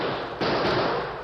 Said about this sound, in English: The dull, coughing explosion of a .45.